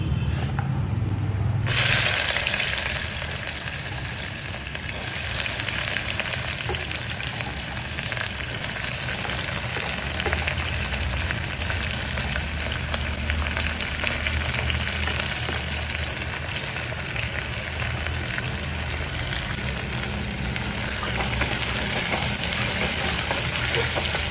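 Onions sizzle steadily in a hot pan, a dense, even crackle that runs unbroken throughout after a brief louder clatter at the start.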